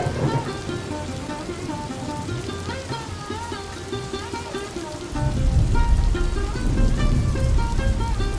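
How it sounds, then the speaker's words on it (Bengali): Heavy rain falls outside an open window as a dense, steady hiss that grows noticeably louder and fuller partway through, with faint tonal sounds running underneath. "মানে বেশ ভালোই ঝরছে বৃষ্টি জানলা খুলে দিলে দেখা যাচ্ছে বৃষ্টির অবস্থা"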